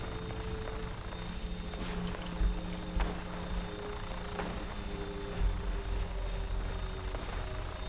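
Vertibird aircraft from the video game Fallout 4, its steady rotor hum and engine drone running throughout with a few faint clicks and knocks on top, moderately quiet and with no talk.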